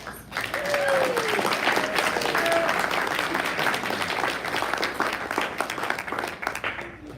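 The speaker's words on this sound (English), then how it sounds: "So can we get a round of applause for your advisors?" At the RoboBoat 2022 awards ceremony, an audience gives sustained, full applause for advisors, a thick wash of clapping with a few whoops and cheers, easing slightly toward the end.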